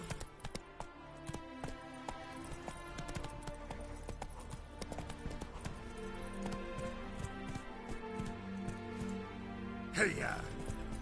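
A horse gallops in a video game, with quick rhythmic hoofbeats running steadily under game sounds, then a brief loud burst near the end.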